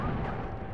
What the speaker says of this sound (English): He throws some grenades out too.